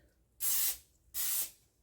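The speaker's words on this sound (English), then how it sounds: "Lightly spray with the non-stick spray." Non-stick baking spray misted from an aerosol can over a phyllo-wrapped pastry, two sharp steady hissing bursts with a short gap between, close and loud with no voice.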